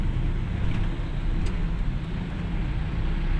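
Busy road traffic on a weekday morning around nine, with cars passing fairly close in a continuous loud rumble and a faint higher engine whine on top. There are no voices.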